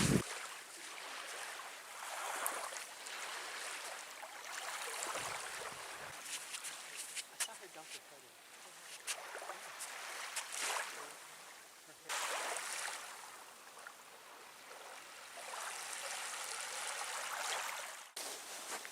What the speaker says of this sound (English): There's very few waves right now.